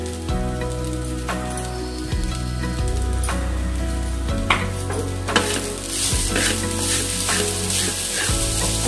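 Grated coconut and jaggery for a modak filling sizzle in a pan while being stirred, a steady close crackle broken by regular scraping strokes over a low tonal hum.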